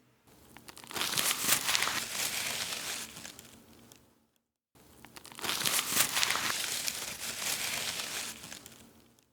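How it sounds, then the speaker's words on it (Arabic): Paper crumpled right up against the microphone gives two loud, crackling bursts of crinkling, each lasting about four seconds, with a short silence between them. "أنا سجلت كرمشة الورق عن قريب من المايك وضفتها على التايم لاين"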